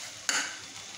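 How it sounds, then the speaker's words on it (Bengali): Beef brain fried in a pan gives a sudden close scrape of stirring followed by a bright sizzle that settles into a quieter steady frying hiss. "আর মগজের রান্নাটা মগজটা একবারে ভাজা ভাজা করে রান্না করব।"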